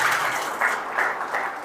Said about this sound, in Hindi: एक बार जोरदार तालियां चाहूँगा मैम के द्वारा।